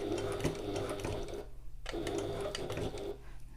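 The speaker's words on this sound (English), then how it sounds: "as I get to this short end, I'm lifting my presser foot and pivoting." A sewing machine stitches a satchel in two quick bursts of rapid mechanical clatter, stopping briefly between them as the presser foot is lifted and the fabric pivoted at a corner; close and fairly quiet.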